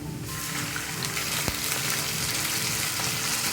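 Garlic, ginger and ground spices frying with lightly browned onions in a pan for a chicken and potato curry, a steady soft sizzle with wet crackle running throughout, one sharp tap of a utensil midway, no talking.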